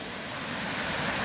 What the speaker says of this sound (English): It's great having the sound of the water as you begin the walk.